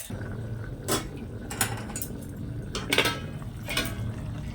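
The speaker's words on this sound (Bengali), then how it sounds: "ফুলকপি আলুটা সেদ্ধ হওয়া অবধি দিয়ে ঢেকে দিই" Metal pot and lid clank and clink a few times at moderate volume over a low kitchen hum while cooking tangra fish curry with cauliflower and potatoes, the lid going on to cover the simmering pot.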